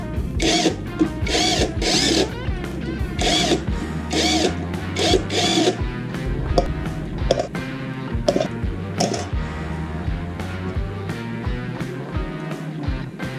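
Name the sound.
impact wrench removing Raider 150 clutch spring bolts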